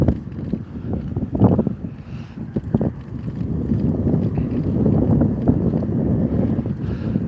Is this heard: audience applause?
no